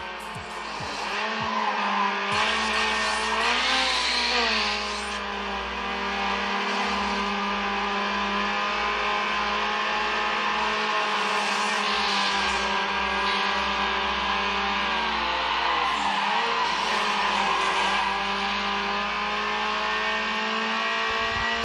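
Race cars in Need for Speed: Underground, played on a PS2 emulator on a Poco X3 Pro phone, roar continuously with rising and falling engine whines, gear shifts and squealing, skidding tyres, loud and sustained throughout.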